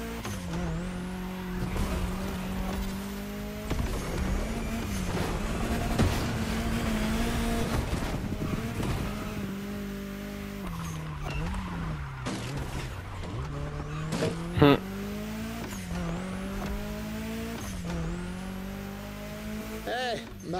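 A car engine and turbo in the racing video game The Crew Motorfest rev with a steady drone, rising and falling through repeated gear shifts. The sound is moderately loud and continuous, with brief spikes along the way.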